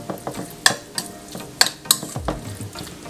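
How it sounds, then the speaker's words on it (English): Ingredients with recaito are stirred in an Instant Pot, giving a few sharp spoon clinks and scrapes against the pot over a faint sizzle, close and brief. "I'm gonna give everything a nice little mixing in here"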